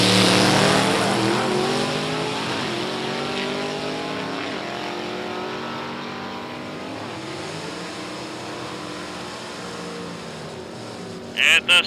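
A Willys drag racing car makes a pass at night at Byron Dragway during the Meltdown Drags, its engine roaring loud and close with rising and shifting harmonics. An announcer talks over the engine throughout.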